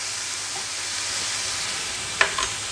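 Cabbage mince fries in oil in a pan that has started sticking, a low, steady sizzle with a couple of brief crackles toward the end.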